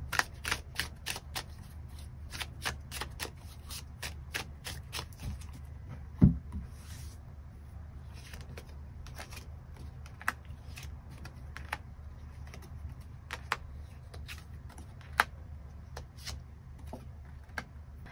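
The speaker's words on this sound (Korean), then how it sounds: "추가 카드 뽑아보도록 하겠습니다" Tarot cards are shuffled and drawn close by: a quick run of crisp riffling clicks at first, then sparse soft taps and slides of cards being laid down on a quiet table.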